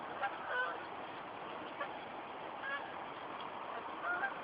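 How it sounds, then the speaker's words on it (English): Geese flying overhead, faint honks scattered over a steady outdoor background hiss, distant and soft. "I'm just going to watch these geese fly overhead."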